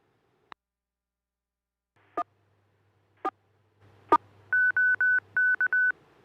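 DTMF keypad tones sent to set up a radio repeater for net mode: a few sharp isolated clicks, then a low hum and a rapid run of clean touch-tone beeps.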